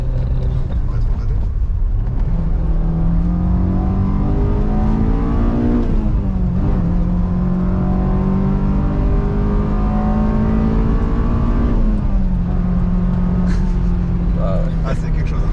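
A Honda S2000 Phase 2 with a manual gearbox idles and revs around 5000 rpm, a loud, sustained engine drone that climbs twice and holds steady in between.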